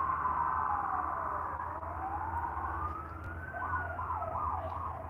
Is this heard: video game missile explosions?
no